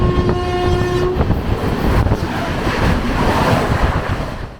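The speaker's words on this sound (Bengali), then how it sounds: "এখন আমাদের উল্টো দিক থেকে আসছে 13009 হাওড়া যোগনগরী ঋষিকেশ টুন এক্সপ্রেস।" The 13009 Howrah–Yog Nagari Rishikesh Doon Express approaches from the opposite direction, opening with a loud sustained horn blast, then a steady, close rumble of passing coaches with no voices.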